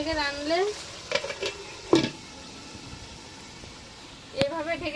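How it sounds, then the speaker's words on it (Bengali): Duck meat stirred in a pan, with a soft sizzle and a few sharp scrapes and clacks of a utensil against the pan as a voice talks in the background. "দিয়ে একটু নাড়াচাড়া করে আমি আবার ঢেকে দেবো"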